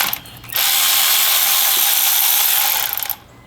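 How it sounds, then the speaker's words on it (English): A ratchet loosens the coolant outlet bolts on a Chevrolet Cruze 1.4 engine, giving a loud, fast, continuous clicking buzz for about two and a half seconds before it stops abruptly. "I'm also going to go ahead and unbolt this coolant outlet"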